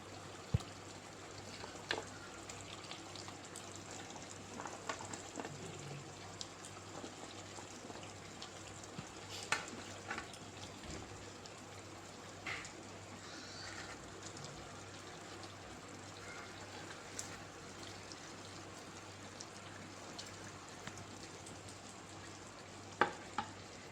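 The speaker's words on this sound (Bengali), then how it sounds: "একটু জাস্ট সতে করে, একটু ক্রাঞ্চি ভাব থাকবে।" Onions and split green chillies sauté in a kadai for dhaba-style kadai chicken, a continuous soft sizzle with occasional small crackles and clicks throughout, fairly quiet and without speech.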